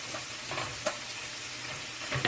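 A sauce cooking down in a pan for homemade In-N-Out style burgers, a low steady sizzle with a few soft stirring knocks, close and quiet, no voices.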